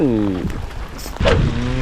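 Rain patters steadily on a small fishing boat out at sea while people go squid fishing. Voices talk over the rain through most of the moment.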